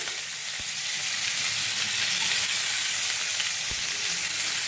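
Onion added to a hot pan for poha sizzles loudly and steadily, a dense continuous frying hiss with a couple of faint knocks from the pan.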